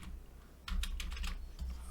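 Rapid clicking keystrokes on a computer keyboard during coding, a close burst of several quick taps after a quiet pause, then another keystroke, with no speech.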